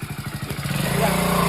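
A nearby motorcycle engine putters in a quick, even idle rhythm, then swells into a louder, steady rev, with people talking around it.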